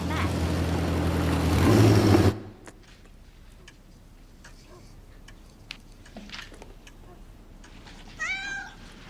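A pregnant cat meows in a domestic room, giving a rising, wavering cry near the end that follows quiet stretches with faint ticks and rustles, after a loud rumbling opening that stops abruptly.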